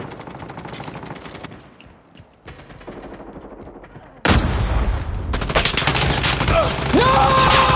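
Call of Duty gunfire on the Oil Spill map with the Chicom rifle: rapid bursts of shots crackle continuously, turning much louder and denser partway through amid in-game battle noise.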